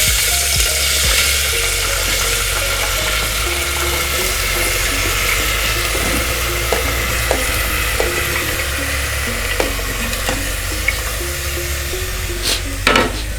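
Mixed vegetables fry in melted butter for pav bhaji, giving a loud, continuous sizzle with scattered spatula clicks and scrapes and no speech.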